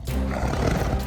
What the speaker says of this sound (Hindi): बाघ बाघ बाघ